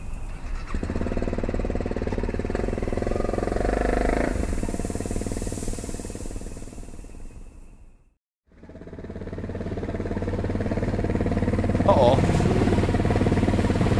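Motorcycle engine in a horror video game, a loud sustained revving drone with squealing tones that cuts out briefly to near silence, then returns and builds again, with a voice talking over it.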